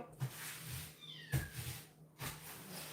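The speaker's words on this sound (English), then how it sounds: "I can hear the kittens crying in the front room right now" Kittens meow in short, repeated cries, three separate calls spaced about a second apart, fairly close and clear with no talking.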